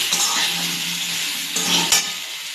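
Salt, chili powder and turmeric powder are stirred in a hot pan, a soft sizzle under light scraping, ending in a couple of sharper spatula knocks against the metal.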